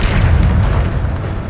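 Bombarda spell blasts in the video game Hogwarts Legacy, a loud dense rumbling boom that fills the moment continuously without pause, with no talk.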